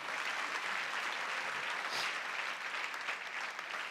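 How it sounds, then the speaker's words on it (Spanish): Sustained applause from a church congregation fills the whole stretch, a dense, even clatter of clapping hands with no voices on top. "dale un aplauso a Dios con todo tu corazón"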